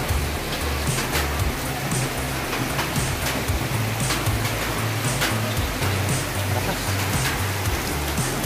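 Heavy rain pours steadily outside a small shop, a dense, even hiss with scattered sharper drops spattering on nearby surfaces, loud and continuous throughout.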